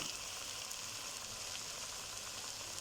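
Okra and tomatoes fry in a pan with a steady, bright, continuous sizzle, close and fairly quiet, with no voices over it.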